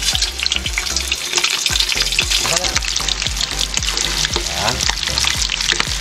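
Pork fat for chicharon bulaklak frying loudly in hot oil, a dense steady sizzle and crackle with stirring, clattering scrapes throughout and a brief spoken word over it.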